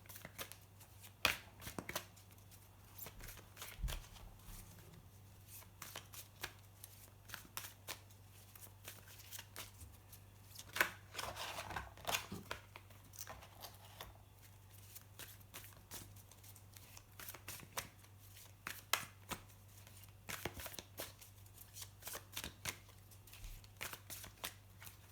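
Tarot cards are shuffled by hand in a quiet room, giving soft riffling and flicking bursts that repeat irregularly over a long stretch. A low steady hum sits underneath and no one speaks.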